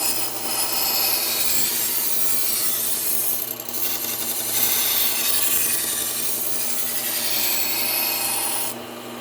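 A chef's knife is deburred on a Scotch-Brite Cubitron 120 wheel, giving a steady, close abrasive rubbing and grinding that runs almost without break before cutting off near the end.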